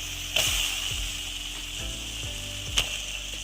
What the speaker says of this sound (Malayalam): നമുക്ക് ഈ നേന്ത്രക്കായ വെക്കാം അതിലേക്ക് ഇട്ട് കൊടുക്കാം